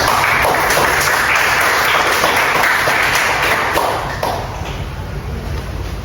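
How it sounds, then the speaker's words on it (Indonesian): A classroom of students claps together in a dense, loud round of applause that holds steady for several seconds and then tapers slightly toward the end. "Kita beri apresiasi tepuk tangan dulu kita semua."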